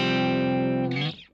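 An electric guitar plays a clean tone through a Kemper amp, ringing as one sustained, steady note that shifts briefly near the end and then cuts off.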